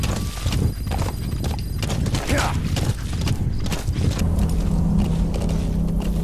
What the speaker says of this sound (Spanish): Y vamos al galope con el caballo.